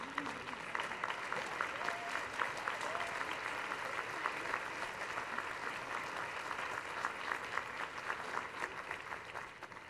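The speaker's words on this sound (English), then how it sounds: "Can we stand up and give them a round of applause?" Audience applause for panelists at a regional workforce session, a steady, dense wash of clapping hands sustained throughout at moderate distance, with faint crowd murmur beneath.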